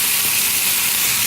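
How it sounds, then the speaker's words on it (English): Mussels frying in hot oil in a restaurant kitchen pan, a loud, close, steady hiss of sizzling that fills the whole moment without pause and with no talking. "Jeremy's going to add the mussels in."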